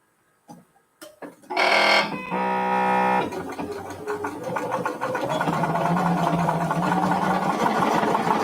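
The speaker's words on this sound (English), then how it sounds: "It's a good thing I have my sewing machine." A sewing machine stitching quilt fabric whirs steadily into a fast, continuous stitching rumble after a few clicks and a brief buzzing start.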